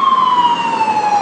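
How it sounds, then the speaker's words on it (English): An emergency vehicle siren on a city street in Washington, DC, sounds as a loud, close, steady tone that slowly drops in pitch. "Endless sirens, especially on major streets like 16th Street."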